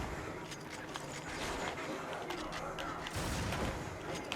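Gunfire in a PlayStation 2 first-person shooter, quiet sharp shots and thuds scattered over a steady game background rumble, with no talk over it.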